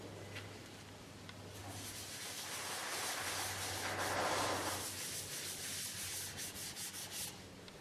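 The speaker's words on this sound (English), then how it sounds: "use a scotch pad on it" Scotch pad scrubbing over the surface of a wooden bowl on the lathe, a steady abrasive rubbing hiss that swells in the middle and continues throughout, close and alone with a low constant hum underneath.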